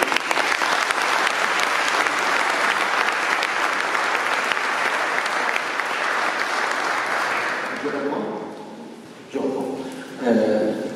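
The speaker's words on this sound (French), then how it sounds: "On peut les applaudir les deux." A seated audience at a mayor's opening address for a public forum applauds loudly and steadily for several seconds, then the clapping fades as a voice resumes speaking.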